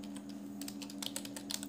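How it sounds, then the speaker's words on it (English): Fingers tap a computer keyboard while entering text in a presentation program, a quick irregular run of light clicks over a steady electrical hum. "Now I am typing on"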